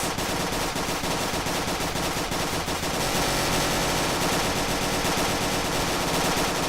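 Continuous automatic gunfire from the RTS/FPS hybrid video game Executive Assault, a dense, unbroken machine-gun rattle that stays loud and steady throughout.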